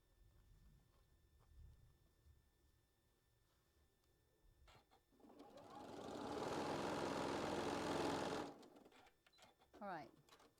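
A sewing machine stitches quilt block pieces in a steady, close mechanical whir that runs for about three and a half seconds, with softer handling noises before and after.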